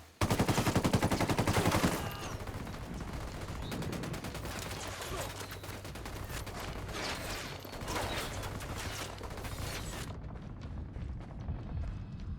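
Gunfire in Tom Clancy's Ghost Recon Wildlands, an opening burst of rapid automatic fire followed by continued scattered shots and booms under battle noise.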